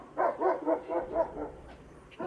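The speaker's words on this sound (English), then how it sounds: "Uh-oh, neighbor dog's up." A neighbor's dog barks in a snowy Alaskan yard, giving a run of about five loud, evenly spaced barks from nearby, then a brief pause before one more bark starts at the end.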